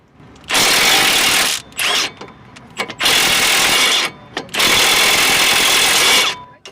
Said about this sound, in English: You'll need an 18mm socket to remove the top and bottom nut on the sway bar end link.